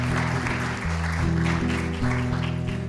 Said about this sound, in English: let's give a beautiful round of applause and welcome to Rabbi Zaslow and Devorah.